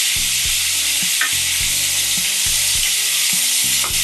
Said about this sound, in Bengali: আবার কষাবো মশলার সাথে।